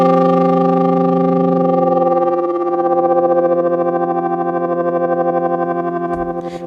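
Arturia MicroFreak synth patch sustains a rich, buzzy harmonic drone whose tone slowly shifts as an LFO modulates the rise, gaining a rapid wobbling pulse in the latter half before cutting off, with no voices.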